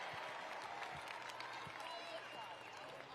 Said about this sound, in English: And everyone, please give Ari another round of applause